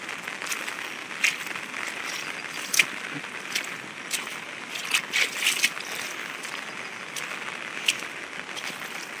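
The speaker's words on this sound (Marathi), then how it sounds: "तो पाणी पूर्ण इकडनं जाऊ राहिला मित्रांनो." Floodwater after heavy rain in Wadale pours past in a steady rushing stream, with intermittent sloshing splashes breaking through the constant flow nearby.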